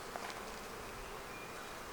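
Many honey bees hum steadily around opened Flowhive frames loaded with honey, a thick unbroken near buzz throughout.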